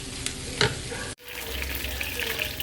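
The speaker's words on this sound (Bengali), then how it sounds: "আমি এখানে একটু মোরলা মাছগুলোকে ভেজে নিচ্ছি বেসনের মধ্যে ডুবিয়ে নিয়েছি" Morla fish dipped in gram flour batter deep frying in hot oil, a steady broadband sizzle that cuts off briefly and resumes, fairly close and continuous with no talk.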